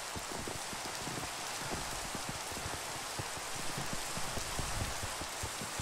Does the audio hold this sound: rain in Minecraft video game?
yes